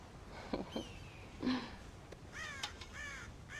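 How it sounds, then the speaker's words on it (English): Crows cawing on a farm in the video game Red Dead Redemption, where they raid a corn silo; several harsh caws come in short bursts at moderate distance, with no talking. "God damn crows!"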